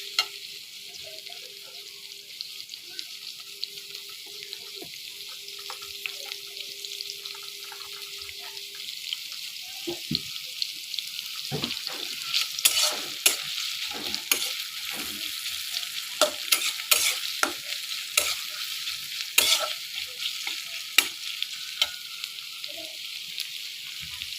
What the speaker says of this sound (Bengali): পেঁয়াজটাকে নেড়ে চেড়ে হালকা বাদামি করে ভেজে নিতে হবে।